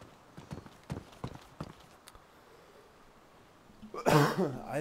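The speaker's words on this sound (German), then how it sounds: "Nee, ich huste nur. Ich hab einen trockenen Hals." Dry-throated coughing by a player in the survival game DayZ: after a run of sharp, soft tapping clicks, a loud burst of harsh, raspy coughing close to the microphone cuts in near the end.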